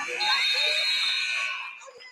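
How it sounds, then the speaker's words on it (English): A scoreboard buzzer sounds at a high school basketball game, Brooke Point versus Unity Reed, as the first quarter ends. One steady, harsh electronic tone holds for about a second and a half, then fades into crowd noise. "Before the buzzer sounds."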